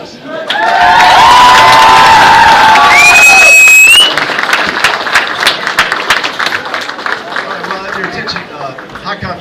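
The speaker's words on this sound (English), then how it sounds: "Another round of applause." A comic convention crowd applauds and cheers loudly, with shouts and whoops over dense clapping that then settles into lighter, scattered claps, voices mixed in throughout.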